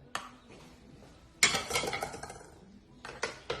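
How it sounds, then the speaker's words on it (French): Chocolate sablé dough being worked in a bowl until creamy, with scattered utensil clinks and scraping bursts, close and intermittent, no speech. "Et là, on va mélanger à nouveau. Jusqu'à l'obtention d'une pommade."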